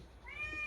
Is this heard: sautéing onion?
no